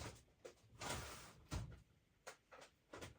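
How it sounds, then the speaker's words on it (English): A craft-supply drawer being opened, a few soft knocks and sliding thumps spaced over a few seconds, faint and close in a quiet room with no talking. "Getting into the bling drawer."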